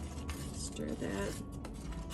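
A brief scrape and clatter of a spoon stirring cheesy potato soup in a pot, close and fairly steady against a dense background, with faint voice underneath.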